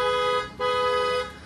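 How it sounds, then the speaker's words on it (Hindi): Creta-style dual-tone car horn fitted to a Tata Nexon XE, two loud steady honks close by, the first about half a second and the second longer, separated by a brief gap. "तो क्रेटा स्टाइल अपना जो डुअल टोन वाला हॉर्न है इस वाली कार के अंदर अपडेट किया जा चुका है।"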